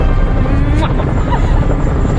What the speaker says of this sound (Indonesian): Queen pun berhasil naik ke helikopter yang ternyata Joker bertujuan menyelamatkannya.